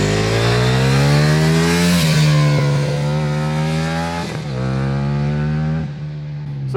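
A 2023 Ducati Multistrada V4 Pikes Peak motorcycle accelerates on the road, its loud V4 engine rising through the revs with clear gear shifts around two, four and six seconds, continuous and close.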